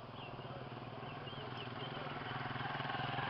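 A steady, fairly faint motorcycle engine drone rumbles on without a break, slowly growing a little louder.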